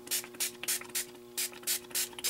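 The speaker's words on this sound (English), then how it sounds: "and spraying." Glimmer Mist in Crimson spritzed onto a die-cut card piece for a Christmas card: eight short, close hissing bursts in two groups of four, each spray a quick puff with brief gaps between.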